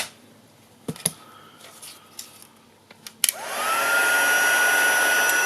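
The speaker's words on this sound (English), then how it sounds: "it's time for my heat gun." Heat gun drying ink on vellum card: after a few light clicks and taps, the gun switches on with a sharp click and settles into a loud, steady blowing whine.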